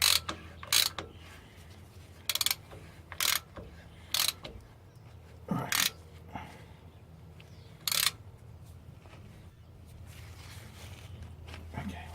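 Ratchet handle clicking in short bursts while tightening a drain or fill plug on a Nissan Patrol GR TD42 diesel axle during an oil change, several separate crisp ratcheting runs spaced by pauses, close and fairly quiet.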